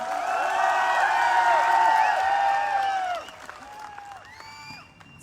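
Applause and cheering from an audience at a wellness speech event in Jaipur, a loud sustained burst of clapping with whoops and whistles that fades to scattered claps and calls.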